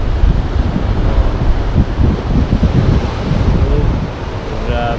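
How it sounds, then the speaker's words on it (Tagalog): Rough sea waves crash continuously against the shore in stormy, choppy weather, a loud dense wash mixed with heavy wind buffeting the microphone. "Kita yung hampas ng dagat."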